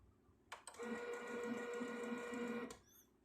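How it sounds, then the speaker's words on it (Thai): A Canon inkjet printer runs a colour test page: a steady, close mechanical whirr with a rhythmic print-head shuttle lasts about two seconds, framed by brief clicks at the start and end. "แล้วมากด ทดสอบพิมพ์กันนะครับ"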